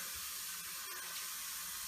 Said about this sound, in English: Keep turning more on the hot water.